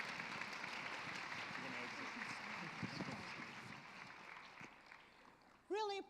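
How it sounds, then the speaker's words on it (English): Audience applause for a panel at a forum on the future of work, a steady wash of clapping for about five seconds that thins out before a voice begins speaking. "Please join me in giving them a round of applause."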